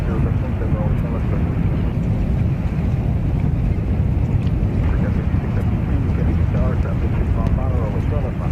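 An Embraer E-175 airliner takes off from runway 31 left at JFK, a steady loud jet roar that holds constant throughout, with a voice talking over it.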